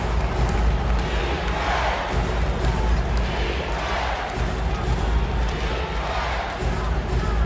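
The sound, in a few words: basketball arena crowd cheering, from a video game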